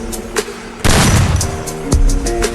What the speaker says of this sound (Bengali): এখন দেখেন কিভাবে ফাস্ট স্নাইপিং শট লাগে